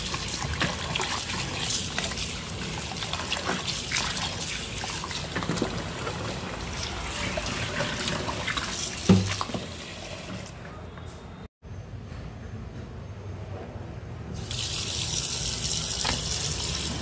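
Running tap water pouring over shrimp being washed by hand, a steady rushing splash throughout with brief handling sounds and a short dip near the end, no one talking.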